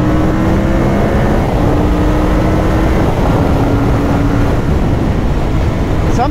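CFMOTO 450 CL-C motorcycle accelerating on the open road, a loud, close engine roar climbing through the revs over rushing wind noise, with rising engine tones running through it.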